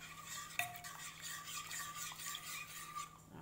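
A ladle scoops coconut green tea jelly mixture from a dark pot into a bowl: soft stirring and scraping close by, with one sharp clink of metal on the pot early on, fairly quiet and with no talking.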